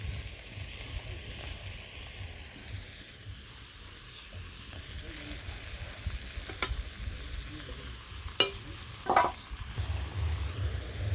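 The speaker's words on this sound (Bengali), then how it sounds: "তো এর এই মলা মাছ আর পেঁয়াজ ভাজিগুলো দিয়ে দিলাম" Mola fish and fried onions go into a frying pan, giving a steady soft sizzle with occasional sharper clinks and scrapes of stirring near the end.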